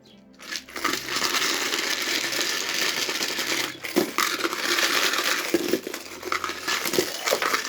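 Small hard charms rattle and clatter continuously as they are shaken together, a dense jingling rush with a brief pause midway, close up.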